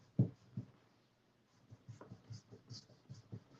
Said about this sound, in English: We're gonna peel our squash.